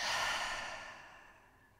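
A slow, full exhale flows out close to the microphone as a long, soft sigh that fades gradually toward silence, following a deep breath in during a calm morning yoga routine.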